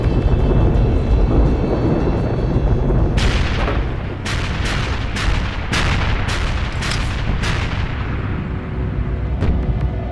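The WWII pre-invasion naval and artillery bombardment of Iwo Jima sounds as a dense, continuous rumble of booms, with a run of sharper, louder blasts in quick succession partway through.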